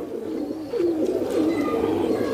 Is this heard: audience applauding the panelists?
no